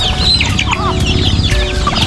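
A flock of chickens clucks busily at feeding time, with overlapping close-up clucks and calls in a dense, continuous chatter.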